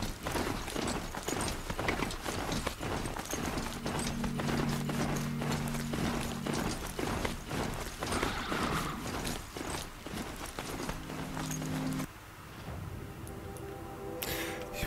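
Horse hooves clip-clop steadily during a ride in the video game Horizon Zero Dawn, a fast rhythmic clatter mixed with game ambience and a brief mechanical passage near the end.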